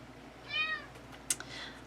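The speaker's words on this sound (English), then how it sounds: "My cat has decided to join us." A cat gives one short, faint meow indoors, followed by a soft click and quiet shuffling.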